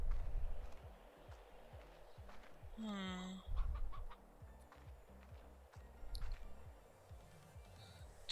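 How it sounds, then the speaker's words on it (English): Chickens cluck in a ranch-style video game, with one loud drawn-out rising squawk standing out among repeated short clucks and footstep-like thumps throughout. "Chickens."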